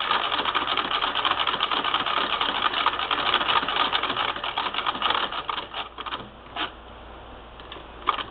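A 1959 Singer Spartan sewing machine stitches quilting through layered fabric and batting, a steady, fast mechanical whir and needle clatter running close and loud, then easing into slower, uneven bursts toward the end.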